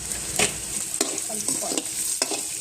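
Carrot pieces fry in a pan for paneer fried rice with a steady close sizzle, broken by a few sharp spatula scrapes and stirring clatters; no voices.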